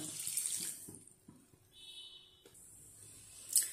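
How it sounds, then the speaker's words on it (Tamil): Water pours from a tap into a vessel to make sugar syrup for Mysore pak, a soft splashing stream that starts, pauses briefly and resumes, fairly quiet and close. "அது கூட ஒரு 3/4 கப்பு தண்ணி சேர்த்துருக்கோங்க"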